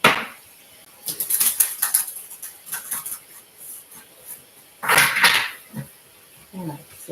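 A deck of oracle cards gets a quick shuffle, with bursts of papery riffling and flicking, close and moderately loud, in brief clusters separated by quieter pauses.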